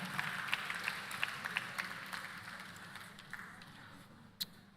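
A conference audience claps briefly, with scattered distinct hand claps over a soft crowd wash that fades steadily, then a final isolated clap near the end.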